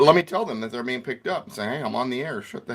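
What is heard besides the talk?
None of the usual background noises is heard.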